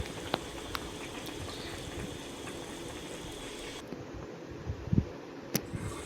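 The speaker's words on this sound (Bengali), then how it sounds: "এবার তরকারিটা ফুটছে" A vegetable curry with carrot and beetroot boils in a pot, giving off a steady close bubbling hiss with occasional soft pops and clinks.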